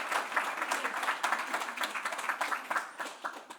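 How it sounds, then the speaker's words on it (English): Audience applause at a quantum readiness talk at the DIGIT Expo 2023, following a speaker introduction: a steady, dense patter of many hands clapping at moderate distance, sustained throughout without speech. "would you like to join me in a round of applause?"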